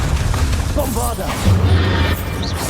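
Bombarda explosion spell cast in the Hogwarts Legacy video game, a heavy low boom rumbling over dense combat noise, with a spoken spell name and other voices briefly under the blast.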